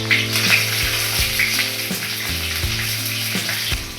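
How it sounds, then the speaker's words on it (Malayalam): Chopped garlic and two slit green chillies frying in hot oil for a Karnataka-style tomato curry, a steady close sizzle with occasional stirring clinks and scrapes of the spoon against the pan. "ഇനി നമുക്ക് ഒരു 3-4 അല്ലി വെളുത്തുള്ളി ചേർത്ത് കൊടുക്കാം"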